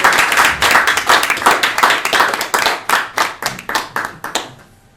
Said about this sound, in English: He once said that bit will end with the audience applauding